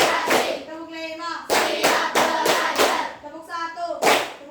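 A group of people clap together in a rhythmic Indonesian concentration clapping game led by a teacher, crisp bursts of hand claps in repeated patterned sets with short pauses between, loud and close, with chanted voices mixed in.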